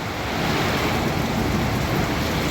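Heavy typhoon rain pours in a dense, continuous roar, with gusty noise underneath and no voices.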